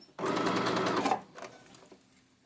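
An overlocker serger runs fast, stitching a garment in one loud, steady burst of about a second, then drops to quieter, intermittent whirring as it slows.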